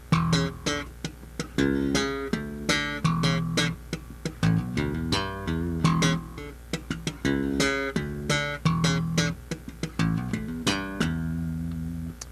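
A bass guitar plays a funky lick with plucked and popped notes, repeating a rhythmic pattern with sharp attacks, played alone at a steady tempo.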